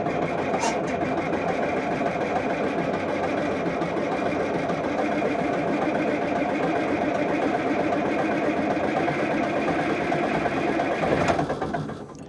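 The starter of a Komatsu D-75 track loader that won't start cranks the engine in one long, steady, loud whirring drone lasting about eleven seconds before cutting off, heard close with no talk.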